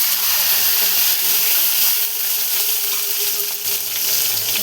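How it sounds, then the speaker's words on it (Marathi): Continuous hissing sizzle of cumin seeds frying in hot oil in a kadai, close and fairly loud, with no talking. "कढईमध्ये थोडीशी अशी फोडणीला बघा जिरे टाकून घेतलेले इथं"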